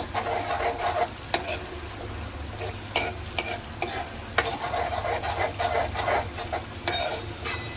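Turmeric, coriander-cumin and chili soaked in water go into a cooked gravy and are stirred in a pan, with continuous sizzling and repeated scraping strokes of a spoon close by.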